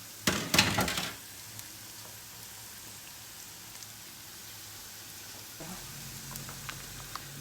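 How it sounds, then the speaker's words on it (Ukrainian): Food fries in a pan, starting with a loud crackling burst of sizzle that settles into a quieter, steady hiss with occasional pops. "Так, вона нам смажиться."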